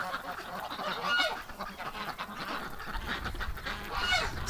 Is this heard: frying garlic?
no